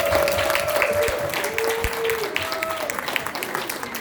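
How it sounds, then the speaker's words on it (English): An audience applauds to welcome a new host onto a stage show, steady clapping throughout with a few brief whistle-like tones rising above it. "Now, I'll please have you give a round of applause to our new host, Mr. John Cornelius."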